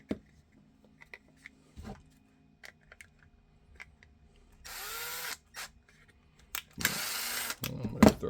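A power drill with a 1/4 inch bit bores through a leather shoulder holster in two short, loud whirring bursts, set between quiet handling taps and clicks.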